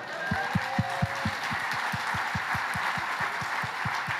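An audience claps in a regular unison rhythm, roughly fifteen evenly spaced claps over a murmuring room background, moderately loud and steady.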